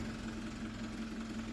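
A tractor engine in Farming Simulator 25 idles with a steady, low, droning hum that holds level throughout, with no shutoff audible.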